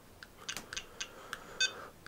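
A Spektrum XBC100 RC battery cell checker gives a series of short, sharp electronic beeps and clicks at irregular intervals, close and clear, ending on a slightly longer tone, with no talking.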